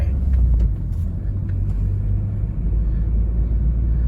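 A manual Toyota Yaris with a swapped-in 1NZ engine cruises gently at about 2000 rpm, a steady low engine drone and road rumble filling the cabin without much revving.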